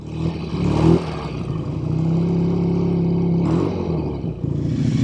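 A 1968 BSA Thunderbolt 650 motorcycle engine fires up with a short burst, then settles into a steady, close, throaty rev held for a few seconds before another blip of throttle.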